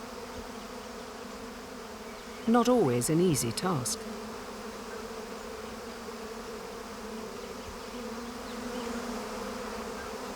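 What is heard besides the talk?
bees buzzing at an exposed hive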